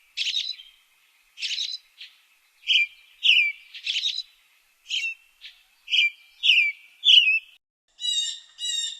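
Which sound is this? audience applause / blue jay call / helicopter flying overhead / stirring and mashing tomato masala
blue jay call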